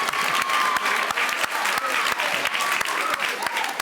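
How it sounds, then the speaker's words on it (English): A crowd at a speech night applauds mid-speech, a steady, fairly even clapping that holds at a constant level throughout, with a speaking voice faintly underneath. "okay, clap."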